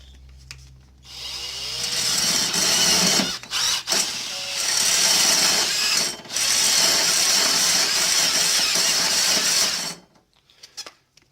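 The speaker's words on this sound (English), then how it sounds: "this probably wasn't the best drill to use." An electric drill whirs loudly and close up for several seconds, stopping briefly twice, then winds down into quiet clicks.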